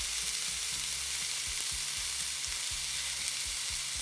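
Beef steak sizzling in a hot frying pan, a steady close hiss of frying fat with faint bumps and scrapes underneath, no voices.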